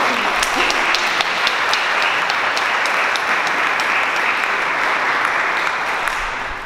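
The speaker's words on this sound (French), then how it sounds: "On peut l'applaudir" Loud, full applause from a press conference audience in Dijon for the 2022 Telethon, a dense wash of clapping with a few sharper claps standing out, holding steady before easing off at the end.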